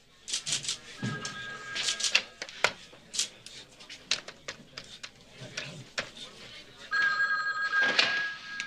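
A telephone bell rings in several bursts, in a dramatic scene with people talking between the rings.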